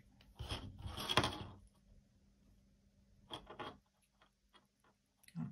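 Sewing machine stitching through layers of power mesh sandwiched between main and lining fabric, two short bursts of whirring stitching near and clear, a pause, then another brief run and a final start.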